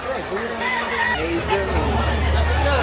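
Chickens cluck and a rooster crows at a poultry market during the rainy season, the birds sounding close and busy while people talk over them and a steady background hum continues.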